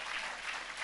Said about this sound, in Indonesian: Yang percaya berikan tepuk tangan buat Tuhan.